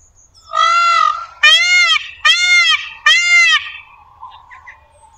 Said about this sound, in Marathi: मोराचा आवाज चांगलाच दणकेबाज असतो।